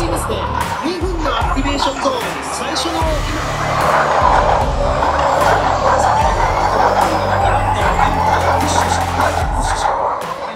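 Electric race cars roar past at close range at the Tokyo E-Prix, engines whining and tires hissing, while a crowd murmurs and voices talk underneath.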